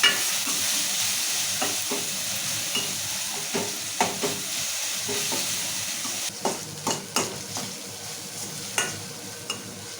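Taro root curry with tomatoes cooks in oil in a pan, giving a steady, close sizzle. A spoon stirs and scrapes it in scattered bursts that grow more frequent toward the end.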